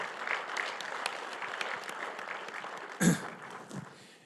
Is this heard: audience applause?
yes